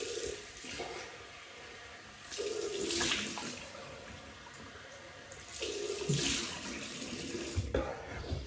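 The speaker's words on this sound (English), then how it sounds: "we'll rinse off" Tap water runs in bursts to rinse a 1960s Gillette Techmatic razor at a sink, with splashing surges rising and falling between quieter moments; no talk is heard.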